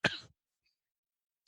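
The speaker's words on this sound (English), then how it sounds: "Sorry about that cough" A single short, sharp cough comes at the very start and is followed by near silence, with a faint brief sound at the end.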